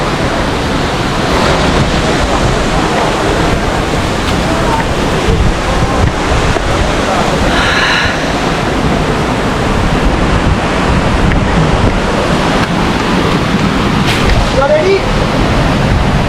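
Aberdeen Waterfalls roaring with rushing water and spray, a dense, loud, continuous wash of noise heard up close with wind buffeting the microphone.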